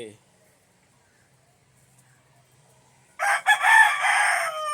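A farmyard rooster crows loudly and close by near the end, after a long quiet stretch with only faint background sound.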